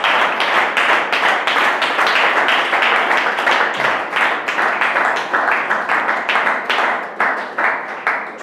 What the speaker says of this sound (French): Acclame pour le Seigneur là aussi.